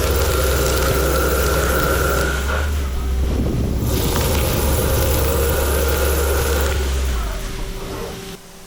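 A CNC lathe turns the outer diameter of a part at a feed of 24 thou per revolution. It gives a steady, loud machining drone with a sustained tonal whine and a rougher churning passage midway, and no voices are heard.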